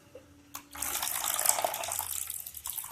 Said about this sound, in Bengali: এই চুন জলটা দিয়ে দেবো